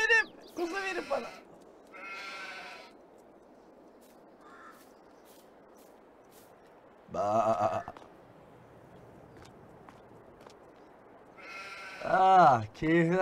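Sheep and lambs bleat in Farming Simulator 22. Four loud, close bleats come in bursts, some doubled, with quiet gaps between them.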